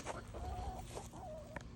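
Chickens, among them all-black Mystic Onyx hens, cluck softly with a few faint, drawn-out calls over steady low farmyard noise.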